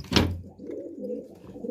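Domestic pigeons in a breeder's loft give a short, soft cooing call after a brief rustle, fairly close and fading into low murmuring.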